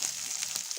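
Onion frying in a pan with garlic, a steady close hiss and sizzle that stays constant throughout.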